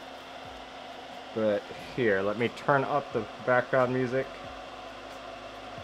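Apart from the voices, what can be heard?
solder fume extractor running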